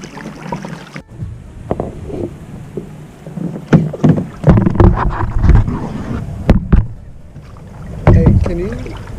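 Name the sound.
kayak paddling on a creek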